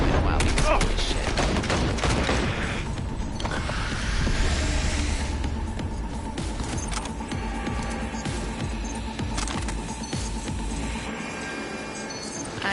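Rapid pistol gunfire in Cyberpunk 2077 crackles in dense bursts of sharp shots, loud and close at first, then thinner scattered shots alongside game effects, with a voice talking at times.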